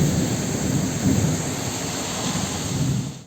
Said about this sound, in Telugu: తెలంగాణలో హైదరాబాద్ సహా పలు ప్రాంతాల్లో కుండపోత వర్షం కురిసింది.